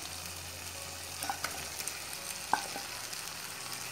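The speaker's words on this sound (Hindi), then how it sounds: "हाई फ्लेम पे हमें इसे तीन से चार मिनट तक के लगातार चलाते रहना है" Masala spices fry on a high flame for chicken Mughlai, a constant crackling sizzle with a few sharp scrapes and clinks of the spoon against the pan, close and without speech.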